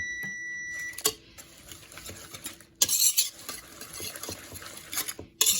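A spoon stirs an oatmeal mixture with added cinnamon in a bowl, giving close, uneven scraping and swishing strokes with occasional clinks against the dish.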